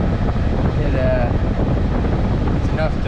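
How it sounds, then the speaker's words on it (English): A homemade A/C fan in a truck cab blows air at its highest speed, a steady loud whoosh of rushing air that fills the clip without pause. "As you can see, it moves a pretty good amount of air."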